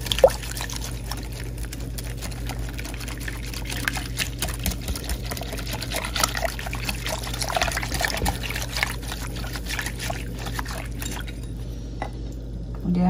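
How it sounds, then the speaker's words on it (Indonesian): Batter of egg, salt and tapioca flour stirred in a bowl: a steady wet, sloshing and scraping texture with soft clicks of the utensil, continuous and close. "Saya aduk."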